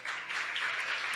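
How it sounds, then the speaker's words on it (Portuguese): Congregation clapping in praise during a Tuesday church service, a soft, steady wash of many hands, fairly faint and without speech over it. "Pode aplaudir ao Senhor."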